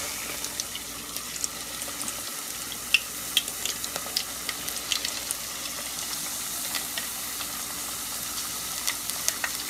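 Potato slices for homemade chips fry in hot oil with a steady, even sizzle, and small crackles and pops stand out at irregular moments.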